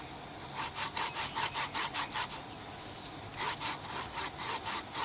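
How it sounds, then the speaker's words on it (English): A hand saw cuts straight down the grain of a wooden stick in quick, even back-and-forth rasping strokes, close and alone, pausing briefly midway before resuming. "you're sawing straight down the grain of the wood"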